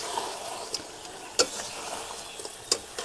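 Fried potatoes are stirred into a duck curry in a pan, a steady soft sizzle broken by a few sharp ticks of the spoon against the metal.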